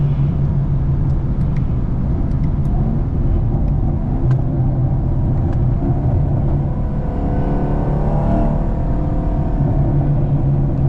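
A Chevrolet Camaro 2SS engine rumbles low and constant from inside the car while driving in traffic, with road noise and a slight rise in revs partway through.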